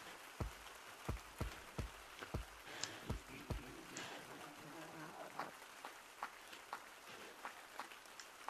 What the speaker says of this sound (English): Oh crap, it's raining.